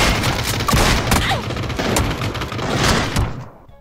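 Rapid bursts of gunfire from a gun in a video game crackle close and loud, a dense fusillade of shots with booming impacts continuing for several seconds before cutting off.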